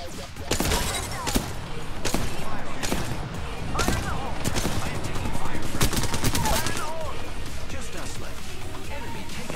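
Bursts of rapid gunfire in the video game Apex Legends crack repeatedly in sharp volleys, with thuds and clatter in between, loud and continuous throughout.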